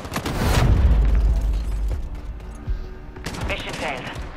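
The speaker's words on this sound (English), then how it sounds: "we got a friendly cruise missile approaching target" Cruise missile strike in a Call of Duty match, heard as a heavy rumbling blast with rapid gunfire crackling over it, loud and sustained for several seconds before a sharper burst near the end.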